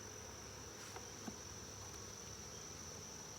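Honey bees buzz around a hive frame pulled from a black plastic hive box, a faint, steady insect drone with a thin high whine throughout and no talking.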